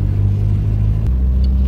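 A Zetos car on the road fetching school kids gives a loud, close, steady low engine rumble with a slight drop in pitch partway through, and no voices.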